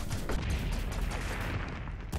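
Gunfire from the video game Owlboy, a dense, continuous rattle of shots at moderate level with no talk over it.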